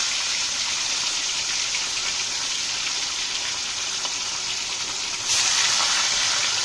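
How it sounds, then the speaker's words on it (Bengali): Koi fish, rubbed with salt and turmeric, go into hot oil in a pan and set off a steady, loud hiss of frying that grows sharper and louder near the end, with no voices. "তেল গরম হয়ে গেছে, মাছ ছেড়ে দিলাম"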